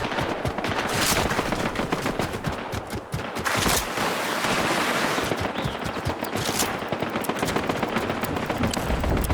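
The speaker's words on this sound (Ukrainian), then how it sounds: "Ззаді якась стрілятина" Gunfire in Fortnite, rapid bursts of automatic shots crackling continuously from behind, loud and dense with no speech over them.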